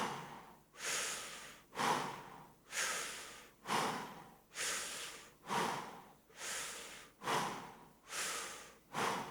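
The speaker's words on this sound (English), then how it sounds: "Now, 6 breaths. Breathe in." Slow, deliberate breathing, heard up close and quiet, as a person draws air in and pushes it out in about nine evenly spaced, airy whooshes with short pauses between them.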